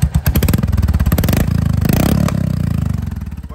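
A Royal Enfield Hunter 350 runs with its exhaust removed, a loud, raw, close-up engine clatter with rapid firing pulses and brief revs rising and settling across a few seconds.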